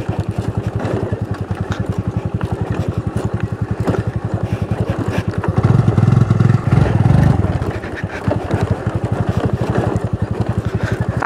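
A Honda Dio scooter engine churns along a rough off-road dirt track near Dipang Lake. It thuds in a fast, steady beat close by, swells louder for a few seconds midway and clatters over the bumps.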